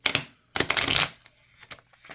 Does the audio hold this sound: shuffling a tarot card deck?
yes